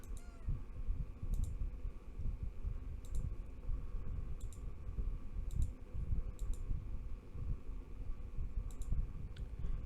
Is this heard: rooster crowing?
no